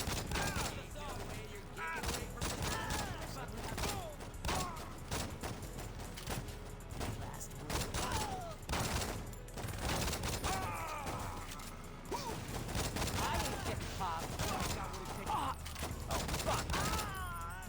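A gang shootout in the video game Saints Row, with continuous rattling gunfire and mechanical clatter over a busy, dense background, and voices mixed in.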